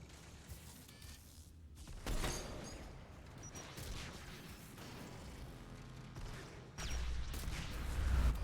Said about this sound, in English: Ooh, that's a grenade.